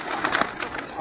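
Soft, close pigeon cooing and fluttering of a net-caught pigeon, brief and without speech.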